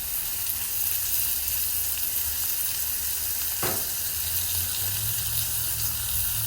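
Ribeye steak sizzling in pure olive oil on a Blackstone griddle, a steady close, dense frying hiss running throughout with a brief sharper crackle midway, no voices.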